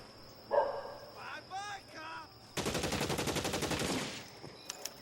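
A fast burst of automatic gunfire in L.A. Noire, a loud rattling string of rapid shots lasting over a second, followed by a few scattered single cracks; a voice is heard briefly beforehand.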